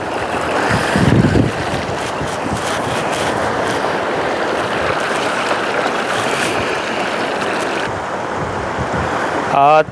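The Poonch River flows at Tattapani in Azad Kashmir with a continuous, full rushing roar, joined by gusts of wind buffeting the microphone.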